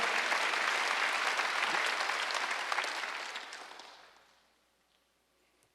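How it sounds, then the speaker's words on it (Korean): Church congregation at a Sunday worship service applauding together, a dense, loud burst of clapping that holds steady for about three seconds, then thins and fades out into near silence. "시험 박수 한번 더 해주세요."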